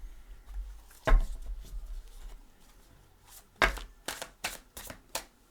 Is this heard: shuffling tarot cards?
yes